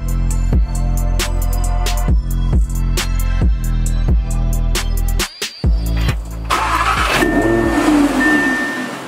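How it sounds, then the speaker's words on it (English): An Audi R8 RWS V10 engine turns over with a rhythmic starter churn and sharp repeated pops, then catches and roars loudly into a high, rising rev. "Let's see what this V10 sounds like."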